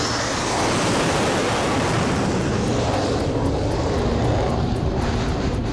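A naval fighter jet engine spooling to full throttle during carrier-landing pilot training: a steady, loud, broadband roar that holds throughout with no talk over it.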